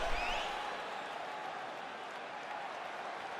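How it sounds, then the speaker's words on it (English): Applause from an arena crowd in EA Sports UFC 4 after a round of a mixed martial arts bout, a steady wash of clapping and crowd noise that starts a little louder and stays level, with no voices on top. "So the crowd voicing its appreciation after that round"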